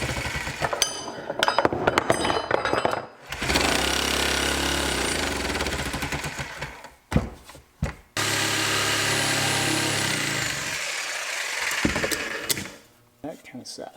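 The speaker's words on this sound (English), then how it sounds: "That was like the uppermost limit of this jigsaw, but got it done." A jigsaw strains through a thick cut at the top of its capacity, a loud rough buzzing in long sustained bursts broken by brief pauses near the start, middle and end.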